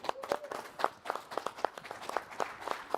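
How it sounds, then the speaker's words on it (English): A small group claps at the 3DEXPERIENCE World 2026 conference, a scattered patter of hands with no voices over it. "Round of applause."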